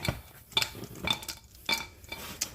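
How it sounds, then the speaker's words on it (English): A utensil stirs ingredients for almond flour banana bread, giving four quick bursts of clinking and scraping against the bowl, close and fairly quiet with no speech. "I just want to stir these real quick before I add them into this mix"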